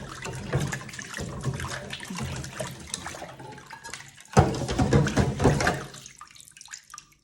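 Dishes rinsed under running tap water to wash off food scraps, a continuous close splashing flow with clinks and a sharp surge midway before it tapers off, no talking.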